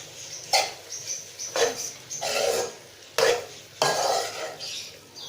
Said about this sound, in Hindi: इस पॉइंट पर हम इसके अंदर ये भिंडियाँ जो हमने फ्राई की थी वो शामिल कर देंगे। अच्छी तरह से मिक्स कर लें।